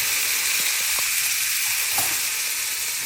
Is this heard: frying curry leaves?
yes